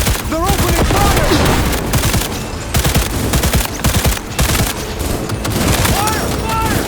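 Rapid automatic gunfire rattles loudly in a Cyberpunk 2077 firefight, dense overlapping bursts with sharp individual shots throughout, while shouted voices call out beneath the shooting.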